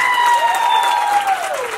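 Strong, steady audience applause fills the hall at the Miss Tiffany 2022 pageant final, with a sustained sung or musical tone gliding over the clapping.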